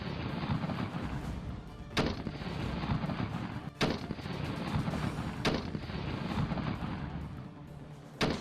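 Wartime artillery fire and gunfire: a continuous dense roar of distant battle with sharp heavy blasts booming out roughly every two seconds, loud and echoing, with no talking.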